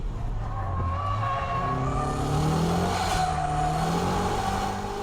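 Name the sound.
car revving for a shift-lock drift in third gear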